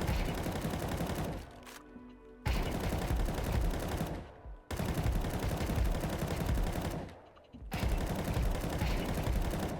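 Rapid gunfire sprays in a shooting video game, several sustained bursts of automatic fire separated by short pauses, loud and close with no talk over them.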